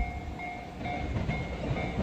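A train rolls past a park in Matsumoto, Japan, with a steady low rumble and faint tonal squeal at moderate distance.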